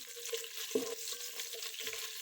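Green chillies sauté in oil for an egg biryani, a faint steady sizzle with a couple of brief spoon scrapes against the pan, quiet and close.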